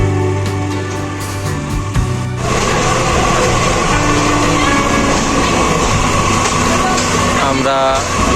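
Padma Express passenger train running from Dhaka to Rajshahi: a loud, steady rumble of carriages and wheels on the rails, filling the clip with continuous dense noise.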